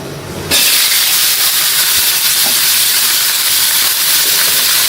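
Bottle gourd and potato pieces drop into a hot pan of oil and at once burst into a loud, steady sizzling hiss that carries on evenly right up close.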